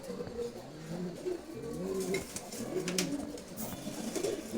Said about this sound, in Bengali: এটা হচ্ছে রেড চেকার কবুতর